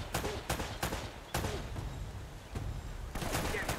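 Shotgun blasts in the video game Uncharted: Drake's Fortune, several loud booming shots spaced irregularly over a continuous noisy background of game action.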